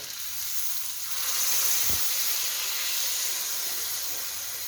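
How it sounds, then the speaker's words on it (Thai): Water hits a hot pan while basil bacon stir-fries, giving a steady loud sizzling hiss that swells and holds, with one brief low thud in the middle and no talking. "นี่ใส่น้ำก่อนทุกคน"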